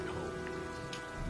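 Steady, dense rain falls in the video game Heavy Rain, a constant close hiss and patter of drops on surfaces filling the whole moment without pause.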